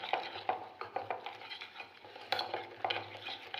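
Chicken marinade with egg, salt and spice powder being mixed in a bowl, a run of quick, regular stirring and scraping strokes close by, light and clicky with a faint low hum behind.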